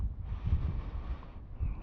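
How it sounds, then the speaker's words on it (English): Gusty wind buffets the microphone with low rumbling blasts, rising and easing over a couple of seconds, with no voices. "it's pretty windy out here"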